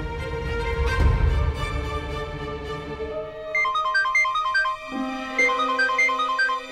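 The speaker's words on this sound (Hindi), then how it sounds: "भाई का फोन यहाँ कैसे बज रहा है?" A mobile phone ringtone plays a repeating electronic melody, clear and fairly loud, following a muffled rumble at the start, in a Hindi TV drama scene.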